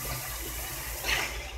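Water poured into a cooking pot of potato and meat curry makes a brief, soft, steady hissing gush, close by and fairly quiet.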